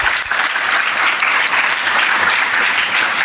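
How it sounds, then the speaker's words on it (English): Loud, continuous applause from an audience at an HR leadership summit in Pune, dense clapping sustained evenly throughout. "Can we have a huge round of applause for her, please?"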